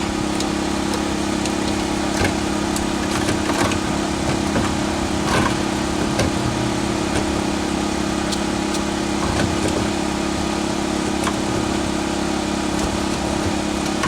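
A 1994 Saab 9000 fuel pump running: a steady, even mechanical hum with a constant whine, loud and close, with faint clicks and ticks scattered through it and no talking.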